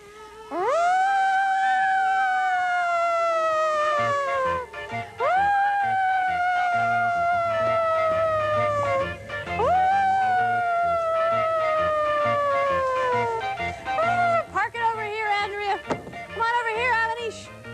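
Children's voices wail in rising and falling siren imitations, several long whoops in a row, loud and close, ending in a jumble of excited voices.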